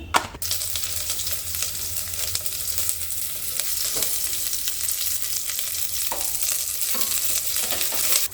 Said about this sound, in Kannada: ಒಗ್ಗರಣೆಗೆ ಆದಷ್ಟು ಕಡಿಮೆ ಎಣ್ಣೆ, ಸಾಸಿವೆ, ಬೆಳ್ಳುಳ್ಳಿ, ಕೆಂಪು ಮೆಣಸಿನ್ಕಾಯಿ, ಕರಿಬೇವನ್ನು ಹಾಕಿದೆ